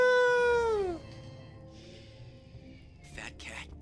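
A cat meows once, loud and close, in the video game BioShock Infinite: Burial at Sea, with a long drawn-out cry that falls in pitch before quieter game ambience and a couple of short noise bursts.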